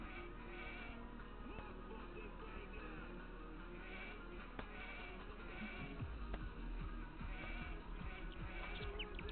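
Sheep bleating in Age of Empires II, a steady run of game sounds with bleats mixed in among other in-game effects, moderately loud throughout and with no talk over it.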